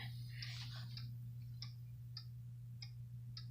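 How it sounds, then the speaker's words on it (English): A vintage Waltham 31-day chiming wall clock ticks faintly and steadily at a quick, even pace over a low, constant hum. "As you can hear it ticking right there."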